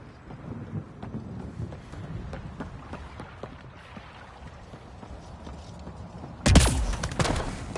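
A thunderstorm rumbles in a PS4 video game set around a steel water-purifying structure, with a steady low roll of thunder and a sudden loud, sharp crack near the end.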